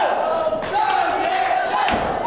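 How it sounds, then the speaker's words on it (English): A wrestling crowd at an indoor independent show yells and chants in a loud, continuous roar, with one sustained shout standing out above the din. "So it is just a cacophony of yelling marks at this moment."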